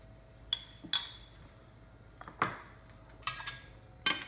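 A metal spoon stirring millet and eggplant curry with turmeric, chilli powder and salt in a pot: a handful of sharp clinks and scrapes at irregular intervals, close and fairly quiet, with no one talking.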